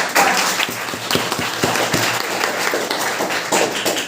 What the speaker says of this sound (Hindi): अगर अच्छी लगे ना ताली वाली बजा